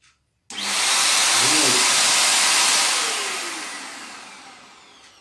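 A cheap, low-cost vacuum cleaner switches on abruptly after a short silence and runs as a loud, steady, high-pitched motor whine and airflow roar, then gradually tapers off over several seconds.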